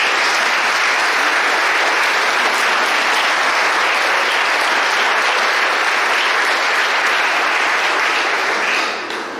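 Loud, dense applause fills a church at the Bessan festival Sunday blessing for the Bédarieux wind band, holding strong and unbroken before dipping slightly at the very end.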